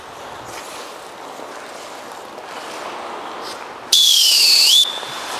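At a youth hockey coaching clinic, a coach gives a single loud, shrill whistle blast lasting about a second. The rink's ambient murmur runs quietly before and after it.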